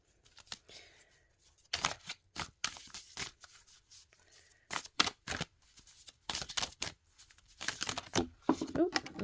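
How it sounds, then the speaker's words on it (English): Tarot-style oracle cards are riffled and shuffled in several quick papery bursts, close by, with gaps between them and a voice talking quietly underneath. "I'm going to shuffle that again because there's way too many cards that just fell out"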